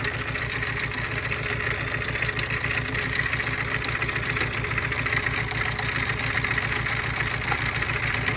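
A diesel engine bought at auction idles steadily, a rhythmic low thumping chug with a constant mechanical hum and no talk.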